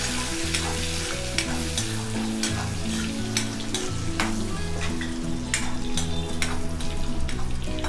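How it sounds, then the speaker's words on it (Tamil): Curry leaves and garlic frying in hot oil for coconut rice, a loud, dense crackle and spatter that runs steadily for the whole stretch, with sharp pops scattered through it and no talking. "கருவேப்பிலை நம்மளுக்கு நல்லா பொரியட்டும்"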